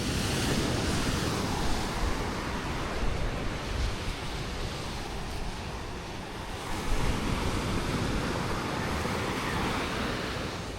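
Continuous roar of ocean surf with waves washing in and breaking, mixed with gusty wind buffeting the microphone. No voices.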